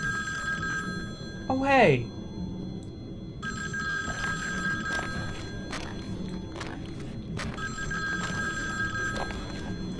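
In the horror video game The Nameless Game, an old telephone bell rings in repeated sharp bursts, loud and close, over a low droning ambience, while a man briefly reacts.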